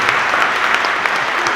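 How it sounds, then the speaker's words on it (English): An audience at a graduation ceremony claps in sustained applause, dense and fairly loud throughout the short stretch. "Can we give them a round of applause?"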